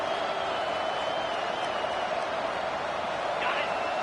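A stadium crowd in a Madden football video game keeps up a steady roar and cheer at moderate level, with no pauses or peaks across the few seconds.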